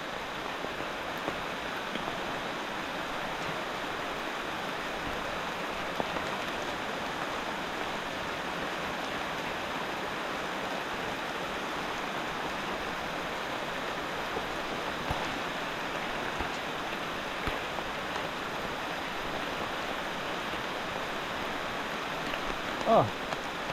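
Heavy rain pours down in a steady, dense hiss that stays constant, with no other sounds breaking through the downpour.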